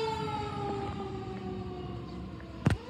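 Seminole County Fire Department Engine 13's siren wails while responding to a medical call, a loud, steady rising and falling tone that runs the whole time, with a brief horn-like blast near the end.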